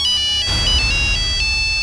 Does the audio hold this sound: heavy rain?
no